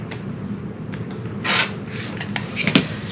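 A rotary cutter or blade trims the edge of a fabric half-square triangle for a quilt block, giving a short scraping, rasping cut over a steady background hum, with a couple of sharper snips near the end.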